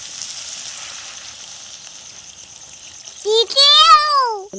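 Water poured into frying masala for a fish kalia sets off a steady, close hiss of sizzling that runs alone for about three seconds before a voice starts talking over it.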